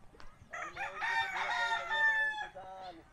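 Chickens, including small chicks, with a rooster crowing loudly and close in one long drawn-out call alongside clucking, over a quiet rural background.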